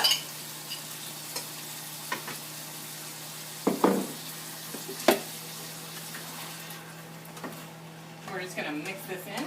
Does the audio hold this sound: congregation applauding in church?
no